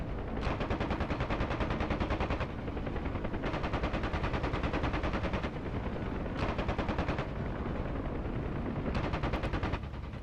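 A helicopter's left door gunner in DCS World fires a machine gun in long, steady, loud bursts, a dense continuous rattle with short pauses between runs and no talking.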